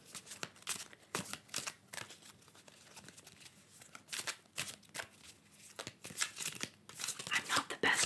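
Wingspan board game cards are shuffled repeatedly in quick riffling bursts, crisp and close, with short pauses between rounds and quiet talk now and then.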